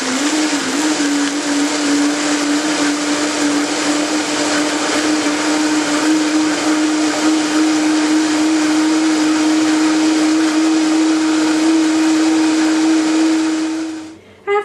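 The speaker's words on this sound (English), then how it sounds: "Place lid and blend for approximately 2 minutes on high" A blender runs on high, whirring a coconut mixture into coconut milk with a loud, steady drone that holds for about fourteen seconds before cutting off abruptly.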